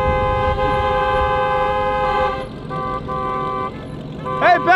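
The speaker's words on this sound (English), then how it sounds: "they honking at each other." Cars honk at each other in traffic, short toots and a longer blast of horns over steady engine and road noise, with a final pair of sharp honks near the end, close by.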